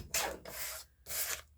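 A Gelli print is trimmed for a mosaic-style tag, making three close, dry rasping strokes, the first two running together and the third after a brief pause.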